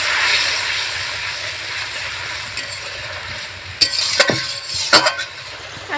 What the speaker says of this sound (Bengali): জলটা আমি খুব ভালো করে ফুটিয়ে নেব